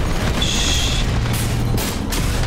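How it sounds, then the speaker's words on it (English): Missile launcher shotgun weapon firing in the Armored Core VI mech video game: loud booming blasts and mechanical bursts over a continuous rumbling game backdrop, with a brief high hissing streak early on. "It's like a missile launcher shotgun."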